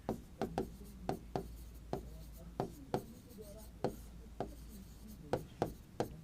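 Chalk or marker writing on a classroom board, with sharp taps and strokes repeating every half second or so over a low room hum.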